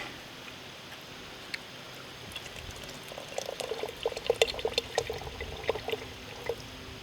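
A can of V8 juice is poured into a pot of wild camp chili over a campfire, a soft glugging splash that starts faint and grows into a trickling pour, close and alone.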